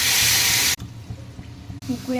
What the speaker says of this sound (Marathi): हवं तेवढं पाणी घालून घेऊया